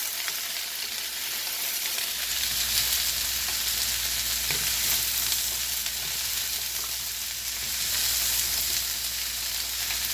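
Mixed vegetables stir-fry in garlic oil, giving a loud, continuous hissing sizzle that swells slightly as they are tossed, heard up close with no voices.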